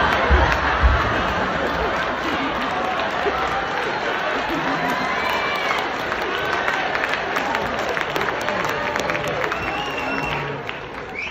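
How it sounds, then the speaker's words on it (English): Sustained clapping and cheering from a large audience at a network marketing business talk, a dense, steady wash of applause lasting throughout without a break. "You gotta quit clapping."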